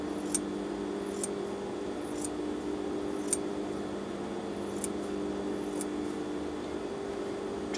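Scissors snip excess threads during sewing, seven or so crisp, sharp clicks spaced irregularly over a steady low hum, close and fairly quiet.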